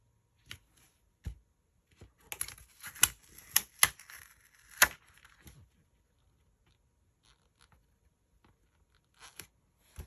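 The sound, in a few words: trimming paper along an edge for a scrapbook page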